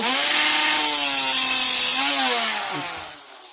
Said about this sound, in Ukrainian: потрібно взяти болгарку